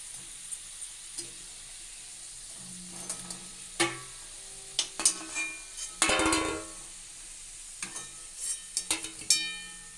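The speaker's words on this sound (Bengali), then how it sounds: "এই লিটি একসঙ্গে অনেকগুলো ভাজা যায়, একটাও ভাঙবে না, বেরোবে না বাইরে।" Several litti fry together in oil, giving a soft sizzle with scattered crackles and sharp pops, plus a louder burst of bubbling midway and no voices.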